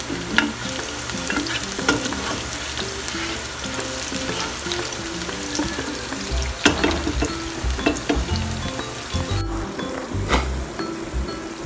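Tender pork is stirred and fried in a pan for a sotanghon guisado, a continuous close sizzle broken by scraping utensil strokes and light clinks against the pan, with no voices.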